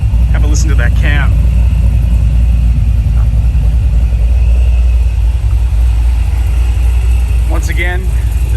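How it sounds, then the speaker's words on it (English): Supercharged 2013 Holden Commodore VF SS V8 with an aftermarket cam, idling loud and close with a deep steady lumpy rumble, brief voices over it. "Have a listen to that cam."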